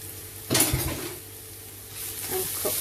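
Onions frying in a pan with salt, a soft sizzle broken by a stirring scrape and clatter of a utensil against the pan, then quieter sizzling and more light stirring.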